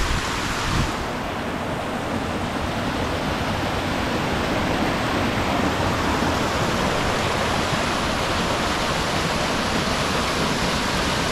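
Water from a small waterfall trickles steadily down a rock face outdoors, a continuous broadband rush that stays loud and even throughout with no voices.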